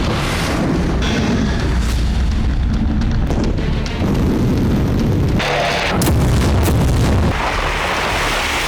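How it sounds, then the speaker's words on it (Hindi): Loud, continuous rumbling blasts from Russian military strikes in Sumy, Ukraine, with heavy booms rolling into one another and sharper bursts near the end, with no talk. "सुमी में रूसी सेना एक हफ्ते से इसी तरह भीषण विस्फोट कर रही है"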